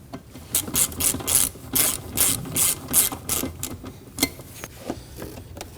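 A socket ratchet snugs bolts down on a 2003-2006 Subaru Baja during a neutral safety switch replacement, giving close, rapid bursts of pawl clicks in several quick runs with short pauses between.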